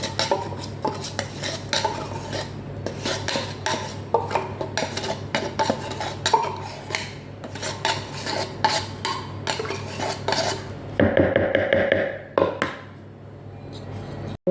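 Cream and condensed milk being mixed in a mixing bowl, with a busy run of close clinks and scrapes from a utensil against the bowl and brief pauses, no one talking.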